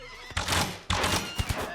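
A horse whinnies loudly in two bursts, followed by a few quick hoof thuds, with a slightly synthetic, game-like quality, from the video game RimWorld.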